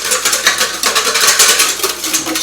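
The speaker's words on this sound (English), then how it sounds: "stir it up, mix it up, make it all nice and frothy" A utensil briskly stirring and whisking a Hollandaise sauce mixture for keto Eggs Benedict until frothy, giving rapid, rhythmic scraping and clinking against a bowl, steady and close throughout.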